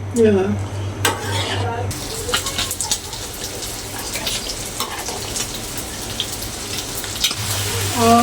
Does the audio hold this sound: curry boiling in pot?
yes